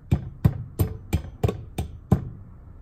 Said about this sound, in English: Jam that bad boy back in there with totally overkill hammer